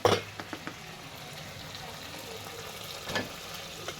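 Schezwan fried rice frying in a pan, giving a soft, steady sizzle with a few louder stirring scrapes near the start and again around the middle, heard alone without talk.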